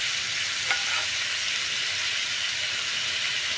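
Figs (dumur) sauté in a pan for a simple Bengali vegetable curry, giving a steady, dense sizzle at an even level throughout, with one brief faint click early on and no talking.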